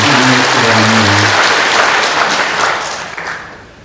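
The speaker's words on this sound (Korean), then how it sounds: "큰 박수로 환영해 주시기" A church congregation at a New Year Mass in Gimpo claps loudly to welcome a priest, a dense burst of applause that starts over a few lingering voices, then gradually thins and fades away.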